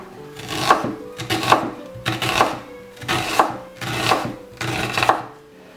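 A large onion is diced into cubes with a knife on a board, giving five evenly spaced bursts of quick chopping taps, close and clear with no talk.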